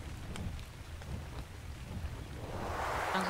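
Rain falls in the ARK: Olympus game world as a soft, steady hiss with faint distant rumbles, swelling louder toward the end; no one speaks.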